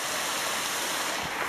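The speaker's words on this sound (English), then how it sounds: "So it's a pretty tall waterfall." A tall waterfall in Hawaii pours in a steady, dense rush of falling water, broadband and unbroken, heard alone without voices.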